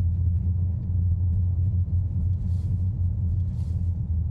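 A Tesla car rolls over cobblestone cubes in an old European town, making a continuous low, droning rumble with faint rattles on top and no voices.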